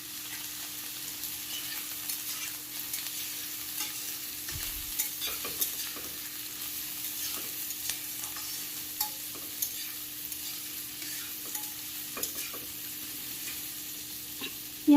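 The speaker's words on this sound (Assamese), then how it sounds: "ইয়াতে পিঁয়াজখিনি ভালকৈ ভাজি ল'ম ৰঙচুৱা হোৱালৈকে।" Onions frying in a pan until reddish, a steady low sizzle with scattered stirring clicks and scrapes throughout, fairly quiet and close, no voices.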